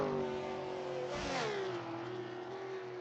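Onboard, a racing car at a 3 Heures du Mans exhibition revs hard to the top of its range, its steady engine note climbing sharply in one surge and then settling back into a sustained high drone.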